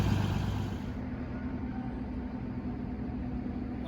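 A large tour bus engine idles nearby at a distillery with a steady, deep rumble that holds constant throughout.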